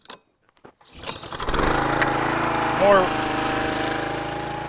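A Yard Machines log splitter engine with a new engine-pump coupler is cranked over against the drag of its hydraulic pump, catching into a steady, loud running drone after a few quiet clicks and handling noises.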